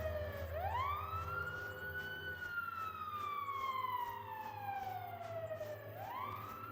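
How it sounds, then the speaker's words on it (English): Police sirens wail in a video game, rising and falling in long sweeping tones over a low background hum, with no talk. "the police sirens are stressing me, man"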